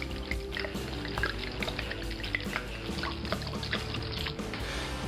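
Red wine pours in a steady stream into a pot with tomatoes, gurgling and splashing softly and continuously throughout, with no voices.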